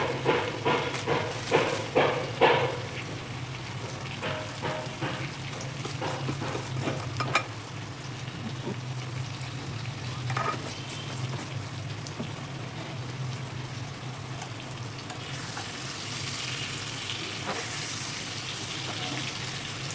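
Mango pieces frying in oil for mango pickle, a steady close sizzle with crackling pops, sharper spatters early on, with no voices.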